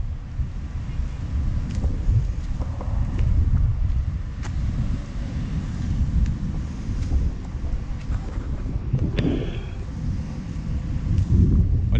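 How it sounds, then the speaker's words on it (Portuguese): Strong wind gusting steadily across a storm-damaged waterfront in Oeiras, a loud low roar with microphone buffeting throughout, rising in bursts near the end. "Falar em vento, pessoal, tá ventando."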